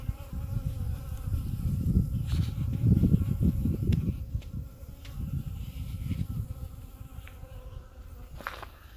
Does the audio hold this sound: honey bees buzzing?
yes